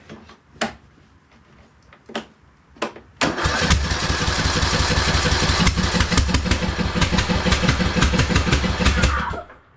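A few sharp cranking bursts, then a Husqvarna YTH2042 lawn tractor's small engine catches and runs loudly with an uneven, sputtering chug that roughens and fluctuates throughout.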